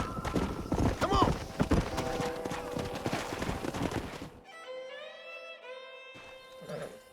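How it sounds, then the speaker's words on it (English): Horse hooves clip-clopping in the Western video game Red Dead Redemption, a busy rhythmic patter of steps with game music and ambience that thins out midway, followed by a sparser tonal stretch. "We got some fine horses."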